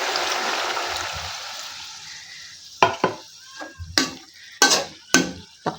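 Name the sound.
water added to cooking vegetables in pan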